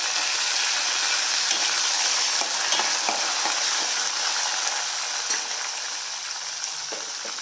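Green chillies, garlic cloves and curry leaves crackle and sizzle steadily in hot oil as a tempering for usthikaya pulusu, a dense continuous frying hiss with small pops, close and loud throughout without talk.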